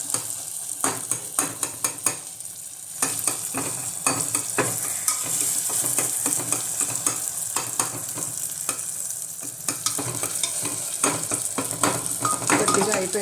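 Tomatoes fry and sizzle in a pan while a utensil stirs them, with frequent sharp scrapes and clinks against the metal over a steady close sizzle.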